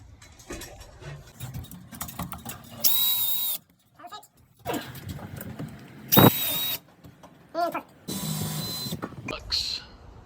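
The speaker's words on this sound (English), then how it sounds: "we're bringing it all home with our favorite Makita drills" Makita power drills pre-drilling while solar window screens are installed, heard as several short whirring bursts separated by pauses, with people talking intermittently over the work.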